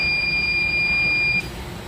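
A Cefla Prima spray machine gives a steady electronic beep tone as its spray sequence starts, continuous and clear for about a second and a half before cutting off, with a low machine hum underneath.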